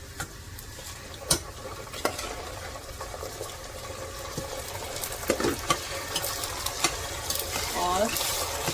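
Rice tipped into onions in a pan and stirred, with scraping spoon strokes, light sizzling and a few sharp clinks over a steady frying hiss, close and moderately loud.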